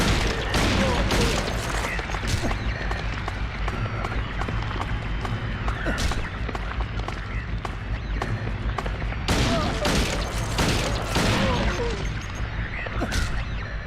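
Pistol shots ring out in Silent Hill 2, a rapid series of sharp, close cracks in uneven bursts across the whole stretch, over dense game noise with a voice talking along.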